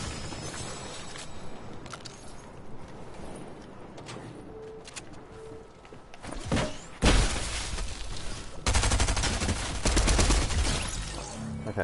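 Gunfire in the video game Fortnite rattles in quick bursts, building from scattered shots to dense, loud sustained volleys near the end, with crashing impacts; no talk.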